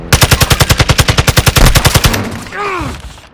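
Rapid automatic gunfire rattles close and loud in Call of Duty: Modern Warfare II, a long, steady burst of evenly spaced shots. It is followed by brief ringing tones and a low rumble.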